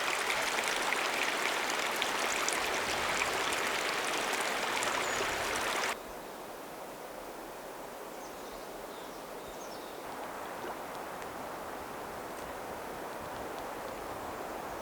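Creek water running down a small rock formation in the High Sierra wilderness, a steady rushing flow that drops to a quieter, softer trickle partway through.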